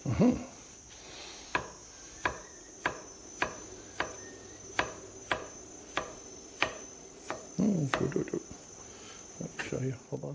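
A knife chops carrot on a cutting board in a home kitchen with steady, evenly spaced thuds, about one a second. An insect-like high hiss runs in the background, and people talk quietly near the end.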